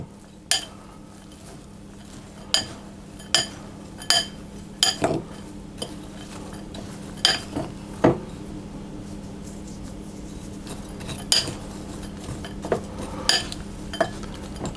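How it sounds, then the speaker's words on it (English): Walnuts are stirred into a sugar mixture in a bowl for a walnut streusel coffee cake, giving a series of sharp clinks and taps at an irregular rhythm, close and fairly loud over a low background hum. "I'm going to put the walnuts in, and I'm going to mix that around as well"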